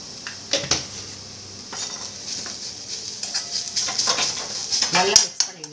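Radish paratha dough being mixed with chilli powder, garam masala and salt in a bowl, giving close, uneven clatters and scrapes of utensil against the bowl with brief rustles, louder toward the end.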